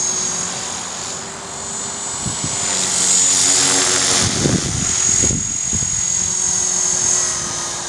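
A small EXI 450 model helicopter with a 401B gyro whines steadily with a high rotor buzz, swelling louder midway as it passes closer, then easing off; no voices.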